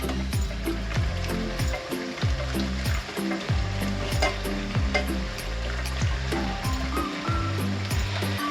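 Flour toasting in a pan for béchamel is stirred continuously, a steady close sizzle and frying hiss with repeated scraping strokes of the spoon across the pan bottom, no talking.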